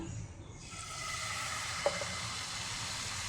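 Batter poured onto a hot pan sizzles steadily and loudly, a continuous close frying hiss that swells after the pour and holds without talk.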